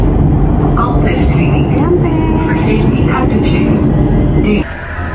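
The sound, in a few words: metro train at Alexanderplatz station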